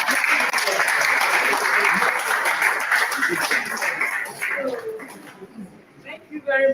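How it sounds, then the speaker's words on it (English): An audience at a conference day session breaks into dense applause for several seconds, loud and close, before the clapping thins out into a few scattered claps. "Please, can we clap for our"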